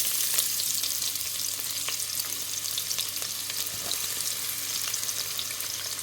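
Onions fry in hot oil in a pan, a steady close hiss with occasional small pops and soft stirring, no voices over it.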